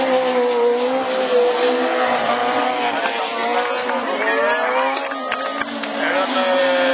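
Renault Twingo Super 1600 rallycross car racing at a 2013 French championship round in Mayenne, its engine droning and revving steadily with other cars, while a commentator talks over it throughout.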